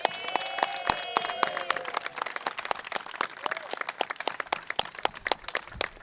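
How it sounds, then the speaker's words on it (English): Residents of a Brooklyn block clap for the winners of a greenest-block contest, sharp uneven claps from a modest outdoor gathering, with a brief whistle near the start. "Give yourselves a round of applause."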